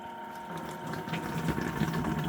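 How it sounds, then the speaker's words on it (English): Running water splashes steadily and close by as a rock tumbler lid is rinsed off after a crushed-rock tumbling and burnishing session. "So go ahead and rinse this lid here off."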